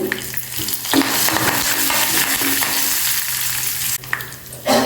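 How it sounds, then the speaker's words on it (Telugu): A tempering of asafoetida and curry leaves fries loudly in a pan for tomato coriander chutney, giving a dense, close sizzle with a few stirring scrapes and one brief drop in the hiss near the end. "ఇది కొంచెం వేగింది కదండి ఇందులో కొంచెం ఇంగు వేయండి బాగుంటుంది టేస్ట్ కొంచెం కరివేపాకు ఒక రెండు రెబ్బలు వేసేయండి"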